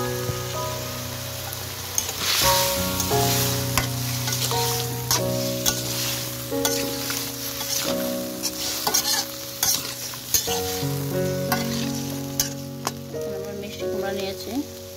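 Pumpkin and shrimp curry sizzles and fries in oil in a pan with turmeric, spoon stirring now and then; steady close frying hiss under strong sustained music tones throughout.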